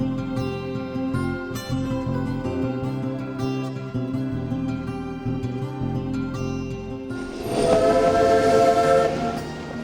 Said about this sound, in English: whistle heralds the arrival at Blaenau Festiniog